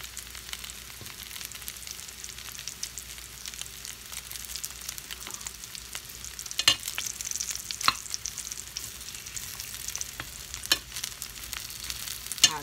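Breakfast food fries steadily in a seasoned skillet with a continuous close sizzle, broken by scattered scraping clicks from stirring and a few sharper crackles toward the end; no one speaks.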